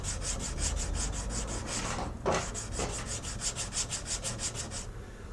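Steady back-and-forth rasping of hand sanding on a knife blade, a quick rhythmic series of close, fairly loud strokes with a brief pause midway, then more strokes.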